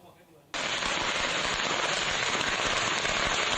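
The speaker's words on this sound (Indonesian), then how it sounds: "Ratusan petasan meledak saat dibawa dengan motor terekam kamera warga" A sudden burst into a dense, continuous roar of rapid crackling pops as hundreds of firecrackers carried on a motorbike go off all at once, loud and unbroken.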